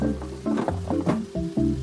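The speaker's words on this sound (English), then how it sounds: "while we're waiting for all the chicken to fry" Chicken frying in hot oil gives a close, continuous sizzle with a few soft stirring or shifting sounds mixed in, and no talking.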